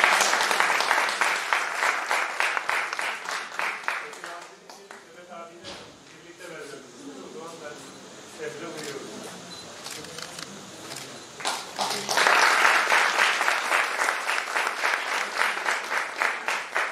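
Rhythmic audience applause at a literature festival session in Istanbul, loud and steady at first, then giving way to a speaker's voice in the middle before the clapping swells back to full strength.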